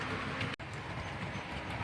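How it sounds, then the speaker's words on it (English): Several model railway trains run at once around a busy junction and station layout, giving a steady, dense rumble and clatter of wheels on track that fills the clip. "I think I've got 6 trains running currently"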